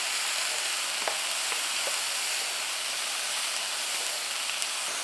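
Steady, loud sizzling as onion, green onion and chopped cabbage fry for Korean jjajang sauce, with occasional clicks of stirring and tossing in the pan, close and continuous without voices.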